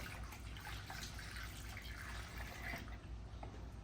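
Coolant drains out of a Raptor 700 ATV's radiator as a steady, close trickle and patter of liquid, continuous for several seconds with no talking.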